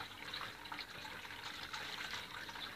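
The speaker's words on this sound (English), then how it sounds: "The water keeps on flowing underneath" Water runs continuously through a homemade hydroponic pipe system fitted with plastic cups, a faint, steady trickling and gushing flow with no pauses.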